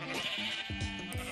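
A Minecraft sheep gives a few quick, clear bleats in succession, close and alone.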